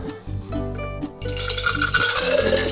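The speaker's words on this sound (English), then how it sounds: "we're gonna take this and we're gonna pour it directly in there, ice and all" A Fog Cutter tiki cocktail poured with its ice into an official Fog Cutter tiki mug: rattling, clinking ice and a rush of liquid that starts after a moment and continues over steady background music.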